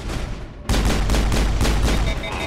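Rapid turret gunfire in the Mass Effect video game, a loud sustained burst of repeated shots and booms that cuts in suddenly and continues steadily to the end.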